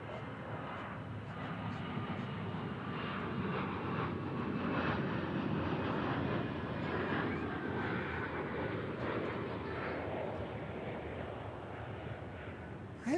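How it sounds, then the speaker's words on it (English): A Boeing 777 airliner landing at DFW airport, a broad, steady engine roar sustained throughout, heard from a distance outdoors with a faint higher whine on top. "Triple 7 landing on this side."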